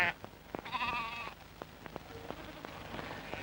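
A flock of sheep out on mountain pastures, with a single clear bleat standing out near the start and faint scattered bleats and pattering noises over a quiet background.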